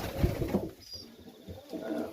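Serbian highflyer pigeons in a loft give soft, throaty coos close by, a couple of low rounded calls over quiet background rustle.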